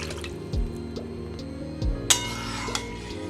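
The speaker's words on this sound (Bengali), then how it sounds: "আবার নতুন করে আমি জল দেব।" Water poured into a pot of moong dal lentils while cooking, with soft dripping and splashing in a few separate bursts, close and fairly quiet.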